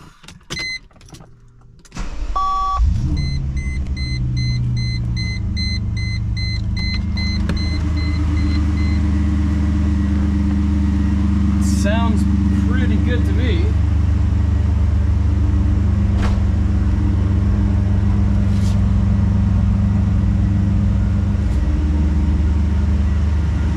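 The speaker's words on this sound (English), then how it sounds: "there's a cold start" A 2000 Mercedes-Benz SL600 engine cranks from cold and catches, then settles into a steady, loud idle rumble that continues throughout; a brief remark is spoken near the end.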